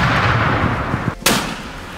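A single sharp, booming mortar shot cuts through a steady rumbling background, fairly close and loud.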